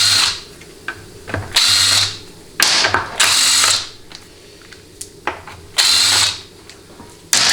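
Bursts of a ratchet socket wrench spinning and clicking rapidly come up close and loud in several separate runs with short pauses between them, during the teardown of a Ford C6 automatic transmission.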